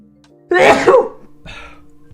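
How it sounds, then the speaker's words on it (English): One loud close sneeze bursts out, followed by a quieter breathy sniff or throat sound a moment later. "I'm gonna sneeze."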